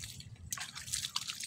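Water is poured for cleaning and drips off in a brief, close run of splashing and trickling after a quiet start, with no voices.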